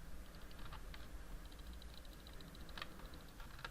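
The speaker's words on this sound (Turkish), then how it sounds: "fare klavye sesim geliyorsa onu da söyleyin yani" Quiet, rapid keyboard tapping with scattered mouse clicks goes on steadily over a low background hiss while playing Minecraft Sky Wars, with no voices.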